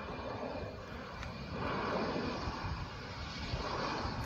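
An airplane landing at Shahjalal International Airport gives a steady broad engine roar that swells slightly midway, moderately distant and continuous without voices.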